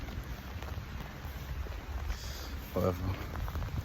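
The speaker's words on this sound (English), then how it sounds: "just trying to hide from this rain" Rain falls outdoors as a steady, soft hiss of drops around a person sheltering under a hat, with a brief spoken word partway through and wind buffeting the microphone.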